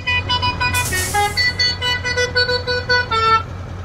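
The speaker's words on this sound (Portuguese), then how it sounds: "E se você quiser aquela buzina delícia" A modded truck horn on a Scania P310 in Euro Truck Simulator 2 toots in a run of short, loud, musical blasts of varying pitch over a steady engine idle.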